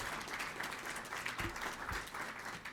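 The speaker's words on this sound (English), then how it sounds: "Let's give one more round of applause for our speakers." A conference audience applauds panel speakers in a ballroom, a steady, moderately distant patter of many hands that holds evenly for a few seconds.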